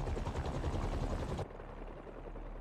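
Helicopter rotor blades chop in the Spider-Man 2 video game, a loud rhythmic low pulsing thrum that cuts off abruptly to a quieter low rumble.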